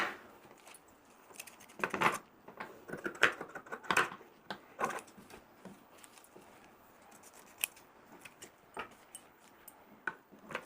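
Scissors trim away the excess cloth around stitching on a homemade hand fan, a series of close, sharp irregular snips and clicks with quiet pauses between.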